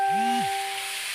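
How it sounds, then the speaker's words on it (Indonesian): Ground spice paste frying in hot oil in a wok gives a steady, close hiss and sizzle, with a brief low swooping tone near the start and a faint constant hum beneath. "setelah panas minyaknya, masukkan bumbu-bumbu yang sudah kita giling ke dalam"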